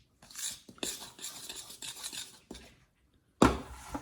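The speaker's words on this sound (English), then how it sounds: "Stir that into the mixture." A utensil stirs salt into cheddar and black pepper muffin batter in a bowl, giving soft scraping and clinking strokes in uneven bursts, close and fairly quiet, ending in a sharper knock.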